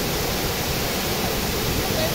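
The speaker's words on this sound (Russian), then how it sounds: "А это, ребят, второй уровень водопада." Second tier of Erawan waterfall, its flowing water a continuous dense roar of broadband rushing noise, close and steady throughout the short stretch.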